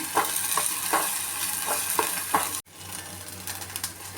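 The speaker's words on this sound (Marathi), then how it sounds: "त्यामध्ये मी एक चमचा अद्रक लसूण पेस्ट टाकते ते पण व्यवस्थित आपण परतून घेऊया" Ginger garlic paste sautés with browned onions in a pan for a water chestnut fish curry, a near, steady sizzle punctuated by regular spatula scrapes about every half second, then a sudden brief cut and a softer sizzle.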